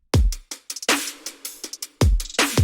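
K-pop drum section driven by a crazy loud, hard-hitting snare, with heavy booming hits opening and closing a busy stretch of sharp percussive strikes, loud and alone.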